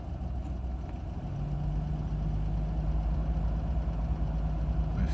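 A 1987 Toyota Land Cruiser FJ60 idling after a cold start with the choke being pushed in, a steady low rumble with a faint hum that settles and firms up after a second or so, close and continuous.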